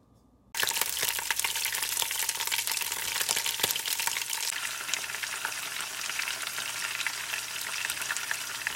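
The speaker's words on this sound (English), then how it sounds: "what I'm going to do is fry 1 whole fish for Kevin" A whole marinated fish dropped into hot oil for a Haitian Sunday dinner: after a brief quiet moment, a sudden loud crackling sizzle erupts and holds steady with dense popping spatters, close up, without speech.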